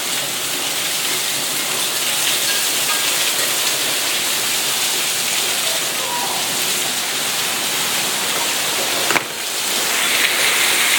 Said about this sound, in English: I don't know if you can tell, but that's all rain.